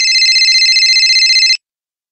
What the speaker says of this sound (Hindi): एक मिनट पापा, आपका फोन है।